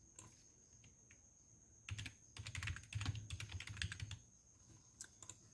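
Soft keystrokes clatter on a computer keyboard while laying out a baby planner page in Silhouette Studio, a few scattered taps building into a denser run of typing, then sparse clicks, fairly faint and close.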